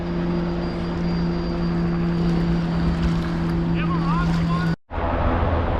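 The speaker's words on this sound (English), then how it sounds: "There's a helicopter." A low-flying helicopter passes near the Skykomish River on fishing opening day, giving a steady droning engine hum with rotor buzz that holds loud and constant, briefly cutting out near the end.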